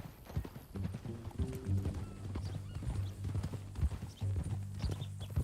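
Horse hooves clip-clop at a steady walking rhythm in Red Dead Redemption 2, close and fairly quiet, with voices talking over them now and then.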